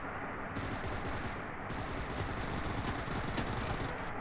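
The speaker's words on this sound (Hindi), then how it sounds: "मैं हवा में हवा में गोली चला रहा हूँ" Gunfire in the PUBG video game: dense, continuous automatic bursts fired into the air, loud and close, with no talking.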